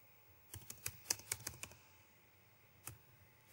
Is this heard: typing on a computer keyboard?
yes